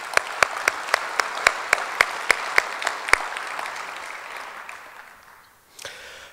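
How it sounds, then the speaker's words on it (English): Audience applause at an author's evening event: a dense wash of clapping with a dozen sharp, evenly spaced hand claps standing out in front, fading away over several seconds, then a brief soft rustle at the end. "So I would suggest you give yourselves a round of applause for that."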